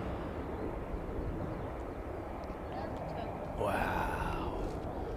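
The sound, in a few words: fighter jet of the 48th Fighter Wing landing with steep flare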